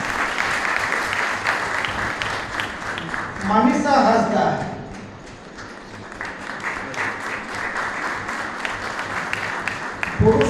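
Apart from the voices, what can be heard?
audience applause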